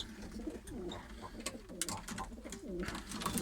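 Pigeons cooing in a backyard coop, soft repeated low coos in a loose rhythm, fairly faint, with light rustling and occasional higher chirps.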